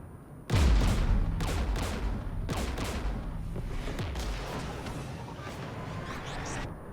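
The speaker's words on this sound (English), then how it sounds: "We're taking fire." Gunfire in the video game Mass Effect 3, where Geth anti-aircraft guns open up with a sudden heavy blast, followed by a dense rattle of rapid shots and booms under a sustained roar, loud and continuous.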